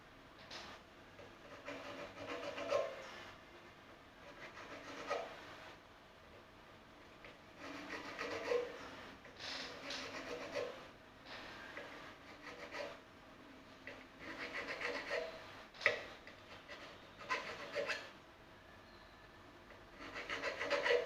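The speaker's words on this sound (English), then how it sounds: "These are filing nicely." Parts of a cookie tin ukulele are filed by hand, a dry rasping stroke repeated in an uneven rhythm at close range, fairly quiet, with no talking over it.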